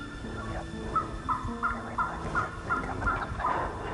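Wild turkeys gobble repeatedly in Mississippi woods along an open road during a spring hunt, a rapid run of bright gobbles ringing out at moderate distance over steady outdoor background hiss.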